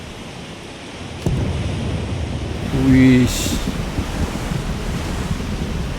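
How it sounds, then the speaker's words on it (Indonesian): Storm waves and rain in the pirate survival game Age of Water: a steady, loud roar of surf, wind and rain throughout, with a brief spoken exclamation partway through. "Lagi badai, ombak, hujan."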